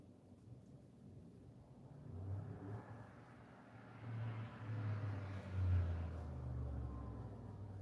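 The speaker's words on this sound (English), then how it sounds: "There is some kind of sports car or something going by outside." A low engine rumble swells and fades in the distance, a loud sports car passing by outside with no talking.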